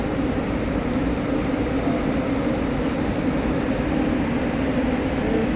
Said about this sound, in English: So you catch this tram to get you from one casino to the next.